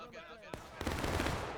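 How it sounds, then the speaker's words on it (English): Canister shot artillery fires in a Civil War battle game, a sudden loud boom followed by a sustained roaring blast over faint background battle noise. "you saw that canister shot come in"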